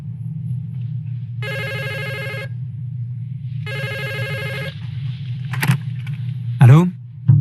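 A telephone rings in two clear bursts separated by a short pause, loud and close, followed by brief handling clatter and the start of a voice.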